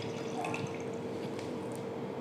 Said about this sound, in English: Now I will add this 90 ml of the water in the 10 gram of